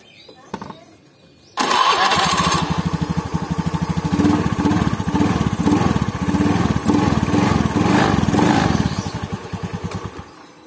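A motorcycle engine, freshly refilled with engine oil, starts after a brief quiet moment, then idles loudly with a rapid, steady, slightly rough chugging that fades at the end.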